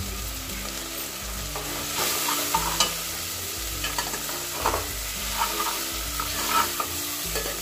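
Spice masala for black masoor dal fries in a pot, a continuous sizzle broken by repeated spoon strokes and scrapes as it is stirred; no voices.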